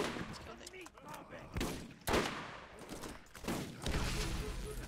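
Shotgun blasts and gunfire in the video game Borderlands, several loud broadband bursts spaced irregularly amid busy game noise and some talking.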